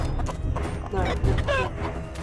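Chickens cluck and squawk in Totally Accurate Battle Simulator, several clear clucks over battle clatter, with a voice talking partly over them.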